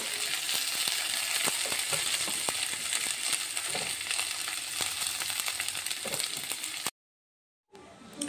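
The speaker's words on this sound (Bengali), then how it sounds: "এবার আমি ভেজে নেব।" Washed dried fish frying in very hot oil: a continuous bubbling sizzle dotted with sharp crackles and pops, heard close for several seconds before a sudden brief silence and then a return of the frying.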